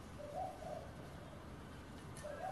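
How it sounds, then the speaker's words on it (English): Doves coo near a workshop in soft, low phrases: two short coos early, then another after a pause, faint and steady against background hiss. "Oh, shut up, bird. Bloody doves. That one seems to like annoying me."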